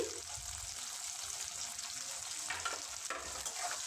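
Cauliflower, peas and other vegetables fry in a pan for vegetarian moong dal, a steady soft sizzle running throughout with a couple of slightly louder stirring moments.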